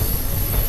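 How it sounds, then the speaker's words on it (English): A long train rumbles past steadily and loudly in India, a constant roar of wheels and cars with a faint high squeal overhead. "See, look at this train, it just goes on and on and on."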